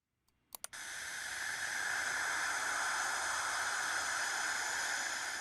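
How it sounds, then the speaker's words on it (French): Cassini radio recording during its dive between Saturn's rings and the planet: after a couple of sharp clicks, a steady broadband hiss from charged particles rises and holds, smooth and continuous with no voices. "Ce sifflement est produit par des particules chargées dans l'environnement."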